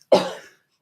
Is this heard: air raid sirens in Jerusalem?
no